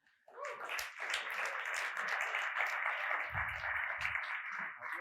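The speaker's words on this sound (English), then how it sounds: "Give a round of applause to Stoyan Vasilev, please." An audience at a crypto conference talk breaks into applause, a sustained wash of clapping that rises quickly and holds steady for several seconds, fairly close and full.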